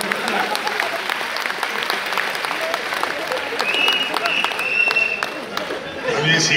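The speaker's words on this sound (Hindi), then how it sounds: "तालियां बजा दीजिए एक बार संपत जी के लिए।" Steady audience applause at a live Hindi comedy poetry show, a dense wash of clapping from a large crowd that holds throughout with no gaps.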